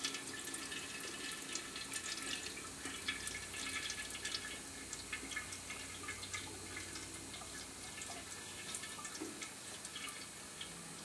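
Residual oil drips and trickles from a Toyota Matrix transmission during a fluid service, a steady wet patter of drops that carries on throughout without any talk.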